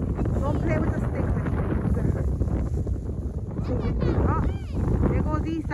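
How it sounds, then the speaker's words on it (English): Strong wind buffets the microphone outdoors during a snowstorm in Brooklyn, New York, a steady loud roar throughout, with children's voices and an adult talking over it. "It is windy out there."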